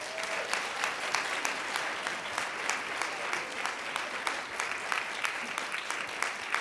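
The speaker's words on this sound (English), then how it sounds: "give them all a round of applause" Steady applause from a school concert audience welcoming pre-K through 12 string players at a winter strings concert, dense even clapping sustained throughout at moderate level.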